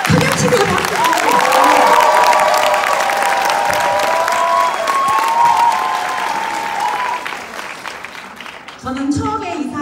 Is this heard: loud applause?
yes